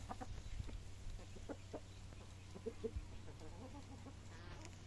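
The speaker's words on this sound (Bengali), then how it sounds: "তো যাই হোক মুরগিগুলো ছেড়ে দেবো" Chickens cluck softly and intermittently in a rural farmyard next to freshly planted paddy fields, the short calls scattered over a steady low background hum, fairly distant and faint.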